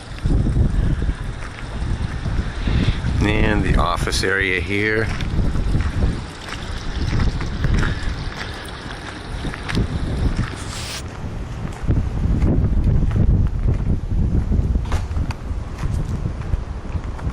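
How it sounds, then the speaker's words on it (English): Strong gusting wind on the Washington coast buffets the microphone in a constant roar, with a person talking briefly and faint outdoor background sounds. "it's kind of windy out here right now"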